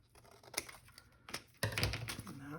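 A paper trimmer cuts through paper envelopes from junk mail with a few short, crisp swishes and a louder rasping slice near the end, close and quiet with no talking.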